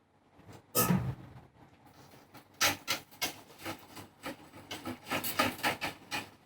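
A big whisk stirs beer mash for a Nelson and Sorachi Ace NZ Pils homebrew, giving a steady run of rhythmic scraping, swishing strokes that grow busier and louder toward the end, close up, with no talk.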